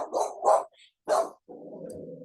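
A pet dog barks three times in quick, loud bursts close by, followed by a short stretch of lower rumbling, with no one speaking.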